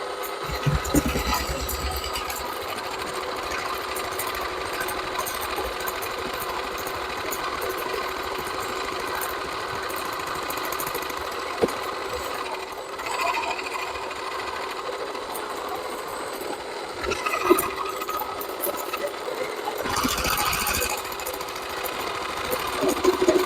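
A Niyama electric food processor slices vegetables such as onions and gourds, giving off a steady, loud motor whir with a rattling, machine-like chatter that runs throughout. Brief louder knocks come near the end.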